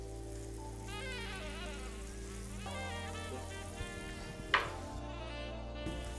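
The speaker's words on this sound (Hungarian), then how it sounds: "Elkezdett már sercegni, úgyhogy biztos, hogy jó meleg a serpenyő." Catfish fillets sizzle in hot oil in a frying pan, a faint, continuous hiss and crackle heard under steady background tones.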